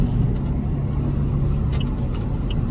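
A vehicle, likely a truck, rolls by on a cloudy day with a loud, steady low rumble of engine and tires that holds throughout, with no voices.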